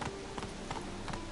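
Horse hooves clip-clop in a steady, quick rhythm over a dense, noisy background in the video game The Witcher 3: Wild Hunt.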